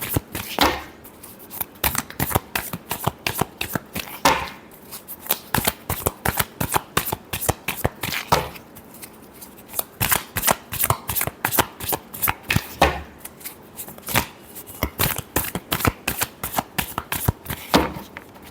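Tarot cards being shuffled by hand in rapid riffling bursts, crisp and close, repeating in quick flurries separated by brief pauses, with no speech over them.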